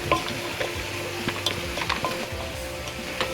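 Pork and green beans simmering in a pot, giving a soft bubbling sizzle with light clinks and scrapes from a pot or utensil, close and steady with no talk.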